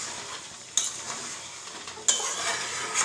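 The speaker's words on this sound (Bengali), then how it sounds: "দেখো কি সুন্দর করে মাংস রান্না করছে, এই দেখো" Chicken meat cooks in a pot with a steady sizzle, broken by two sharp metallic clanks of a spoon or lid against the pot, close by and with no talking.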